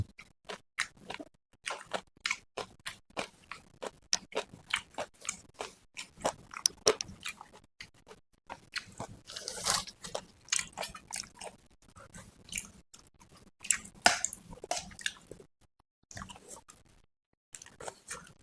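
Grilled eggplant from a mala barbecue being eaten, with steady close chewing, soft squishy bites and occasional crunches in an irregular rhythm, no talking.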